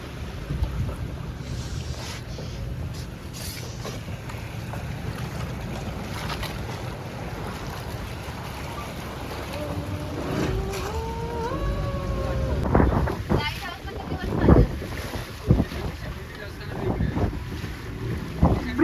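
Boat moving through a channel between rocks at Malvan on the coast, with steady wind buffeting and water wash throughout, the motor and hull noise swelling louder near the end as voices murmur briefly.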